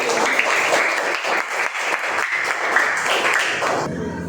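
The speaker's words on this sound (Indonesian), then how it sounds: "silakan beri aplaus tepuk tangan untuk kelompoknya Rere." A group of people clapping together in a sustained burst of applause, close and lively, ending abruptly.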